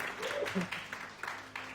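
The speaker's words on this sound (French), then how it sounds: "On peut les applaudir, oui, on peut les applaudir." Scattered applause from a church audience with a voice talking over it, fairly steady and moderate throughout.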